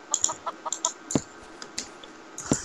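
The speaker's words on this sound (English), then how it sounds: "Is it a chicken? Yeah, it's a chicken." A chicken in the Minecraft video game gives a few short, clipped clucks in quick succession, fairly close, alongside scattered keyboard clicks.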